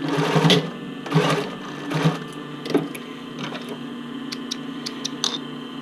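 A sewing machine stitching the elastic waistband of a sports bra, running in several short close bursts of rapid mechanical whirring and ticking, then fading to lighter intermittent clicks.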